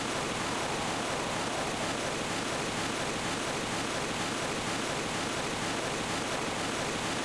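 Waterfall in the video game Mizzurna Falls, a steady, even rushing roar of falling water with no variation or talk throughout.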